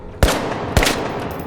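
Two sharp bullet cracks in the game The Finals, about half a second apart, each a loud close snap that trails off into a brief ricochet ring.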